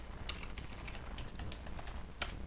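Typing on a computer keyboard in Excel, a quick run of light plastic key clicks at an uneven pace, close and soft, with one sharper keystroke near the end.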